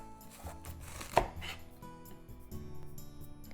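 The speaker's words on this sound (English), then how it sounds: "So NAPA cabbage. Cut the core off." A knife chops through the core of a napa cabbage on a cutting board, several firm cuts with one sharp, loud strike standing out amid a busy kitchen background.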